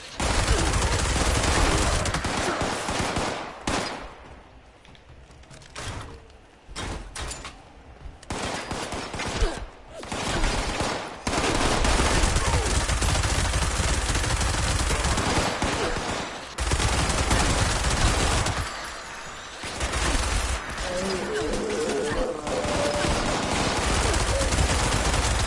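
Sustained gunfire in Fallout 76, dense volleys of loud shots roaring almost continuously, broken by a few brief lulls before the barrage resumes, heard without talk.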